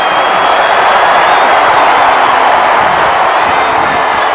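An arena crowd in the WWE 2K25 wrestling game roars continuously, loud and dense with cheers and whoops, and commentary runs under the noise.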